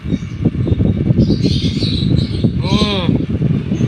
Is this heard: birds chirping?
yes